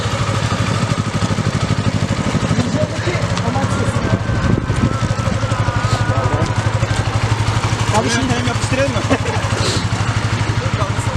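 Motorcycle engine running at idle, a loud steady rhythmic putter with wind buffeting the microphone, someone talking over it.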